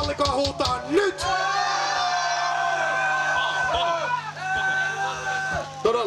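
Concert crowd shouting and cheering at a live metal show, a loud sustained roar of many voices with whoops and yells, while a man calls out over a microphone.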